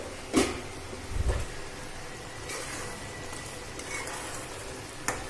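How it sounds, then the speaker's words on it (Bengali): Okra curry with potato in a yogurt sauce bubbles softly in a pan after the lid comes off. A couple of clanks and a dull knock stand out over a low, even sizzle, with faint stirring after. "আমি ঢাকনাটা খুলে আর একটু নাড়াচাড়া করে নেব।"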